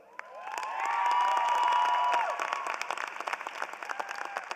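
A commencement crowd at a spring 2022 College of Social Work ceremony bursts into applause for graduating students, with high cheers and whoops rising over the clapping before it settles into thinner, scattered claps.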